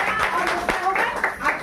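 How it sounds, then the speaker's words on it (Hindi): Short burst of clapping from an audience at a prayer gathering, a few uneven claps over crowd murmur and talking voices. "जोरदार ताली बजाइए।"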